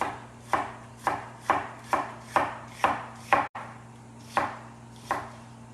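Knife slicing food into julienne strips on a cutting board, a steady run of about nine crisp, close chops spaced roughly half a second apart, with no talking.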